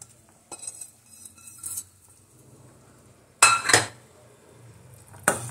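Grated coconut, almonds, cinnamon sticks and makhana (fox nuts) are tipped into a metal cooking pan, giving scattered clinks and clatters with a couple of sharp, bright knocks against quiet kitchen background.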